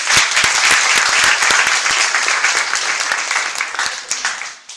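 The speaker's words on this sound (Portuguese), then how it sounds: "Vamos aplaudir a palavra de Deus." Church congregation applauding together, a dense sustained wash of many hands clapping that stays loud and steady, then tapers off near the end.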